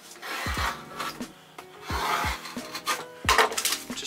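Sound deadening material for a camper van is cut into strips, giving close, rhythmic bursts of scraping, rasping cuts separated by short pauses.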